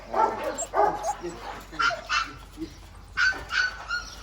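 A dog barks repeatedly in short bursts, with a few higher yips and whimpery notes mixed in, fairly close and clear.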